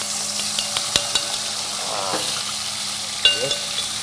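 Edible gum (gond) roasting in a pan, a close steady sizzle broken by sharp clicks and taps of a utensil against the pan.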